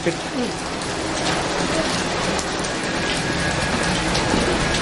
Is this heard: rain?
yes